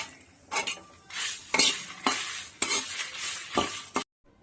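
Masala with curry leaves and coconut being dry-roasted in a pan: repeated scraping strokes of a spatula against the metal pan in an uneven rhythm over a low sizzle, close and loud, with no speech.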